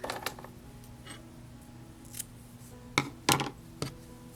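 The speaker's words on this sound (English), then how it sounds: "So I'm going to snip that guy." Scissors snip through crochet yarn, a few sharp close clicks, the clearest near the end, over a faint steady background hum with no speech.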